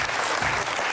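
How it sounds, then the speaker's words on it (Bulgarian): Studio audience applause on a Bulgarian game show, a steady, dense burst of clapping that fills the whole moment without any talk. "Аплодисменти за Милко."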